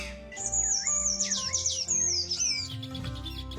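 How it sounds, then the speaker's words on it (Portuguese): Several songbirds, including sabiá, tico-tico, corruíra and sanhaço, sing in the Brazilian countryside during mating season, bright twittering phrases and whistles rising and falling over soft background music. "Uma variedade de aves inicia a cantoria para atrair"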